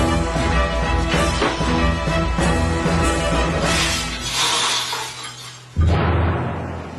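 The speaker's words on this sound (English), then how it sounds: "5 sheets of glass were broken in that test" A stuffed toy pig drops through a stack of glass panes, setting off a long, loud, continuous shattering and crashing of breaking glass that ends abruptly, followed by a duller rumble.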